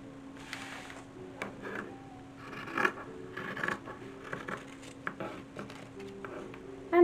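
Scissors snipping through printed dress fabric for an 1870s-style work dress, quiet close cuts in short irregular bursts with soft rustling of cloth between them.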